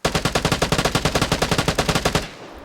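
A fast automatic weapon burst in the video game Vigor, about twenty evenly spaced loud shots in quick rhythm lasting just over two seconds, then stopping abruptly and fading into quiet.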